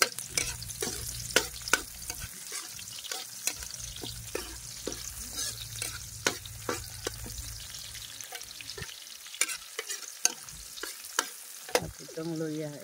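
Onions, ginger and other aromatics sauté in a pan over a wood fire, a steady sizzle with frequent scraping and tapping strokes of a stirring utensil, no voices present.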